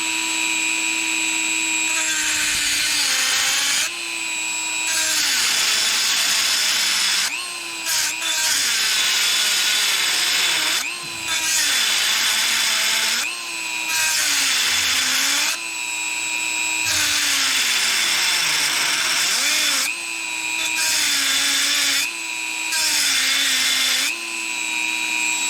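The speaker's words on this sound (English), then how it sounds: "So I hit the Dremel." Dremel rotary tool grinding a lower torsion arm from a 1965 VW Beetle, a loud high whine that rises and dips in repeated bursts with short pauses, continuing for the whole stretch.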